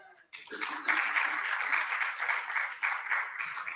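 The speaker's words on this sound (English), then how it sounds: "At least you should have clapped well for me." A conference audience at a digital asset summit in Africa breaks into steady, dense applause that holds for several seconds after a brief voice at the start.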